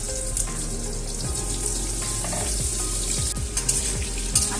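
Potatoes sizzle as they drop into hot spiced oil tempered with five spices for a papad curry, a steady crackling hiss with occasional louder pops and a stirring clatter.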